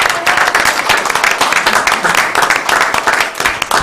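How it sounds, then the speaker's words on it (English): Loud, close applause at a school Board of Education meeting, many hands clapping in a dense continuous burst that stays strong for several seconds. "if we can give them a round of applause"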